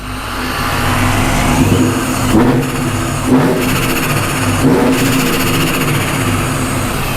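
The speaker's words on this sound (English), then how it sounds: "I want them to hear the supercharger" A loud, steady engine roar from a supercharged BMW E39 M5 with a high supercharger whine runs throughout, swelling slightly in a few brief surges.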